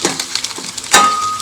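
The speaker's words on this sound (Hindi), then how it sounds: "इनको भी 1-2 मिनट के लिए ऐसे फ्राई करना है।" Eggs frying in a pan over a medium gas flame, a soft crackling sizzle with small pops and one sharp clink near the end, close and moderately loud, no talking.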